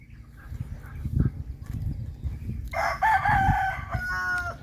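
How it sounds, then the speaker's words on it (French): Rooster crowing once on a small farm, a loud, drawn-out cock-a-doodle-doo at mid distance that follows low scuffling and handling noise. "Le coq, là, j'ai aucune idée c'est quoi."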